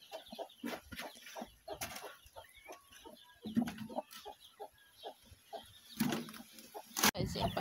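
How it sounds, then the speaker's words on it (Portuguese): A brooding hen clucks in a farmyard, soft repeated clucks and low murmurs nearby, with a person talking over them. "Aqui, gente, ó, tem uma galinha chocando."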